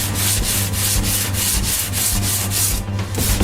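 Wood on a dresser being hand-sanded in brisk, even back-and-forth strokes, about a dozen close rasping passes in steady rhythm with no talking.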